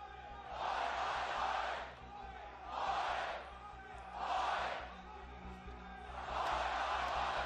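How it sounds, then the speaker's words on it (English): Crowd at an Overwatch World Cup 2017 esports qualifier in Sydney cheering and chanting in four rhythmic swelling bursts, loud and roaring, with quieter gaps between each surge. "And the crowd now a little bit more energy in case they didn't have enough before"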